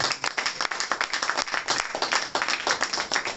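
A church congregation bursts into dense, steady applause, many hands clapping at once close and loud for the whole stretch, with faint voices mixed in beneath.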